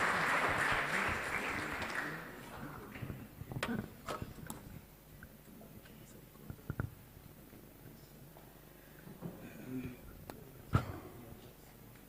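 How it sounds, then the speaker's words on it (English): Applause for a bishop coming forward to give the keynote at a youth conference, a dense burst of clapping in the opening two seconds that thins quickly into scattered claps and low room murmur. "Let's clap for him again as he's getting ready to speak."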